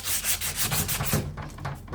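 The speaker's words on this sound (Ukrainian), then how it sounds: "обичну наждачку і тер," Steady back-and-forth scraping of sandpaper rubbing a plough part, close up, in quick repeated strokes that soften toward the end.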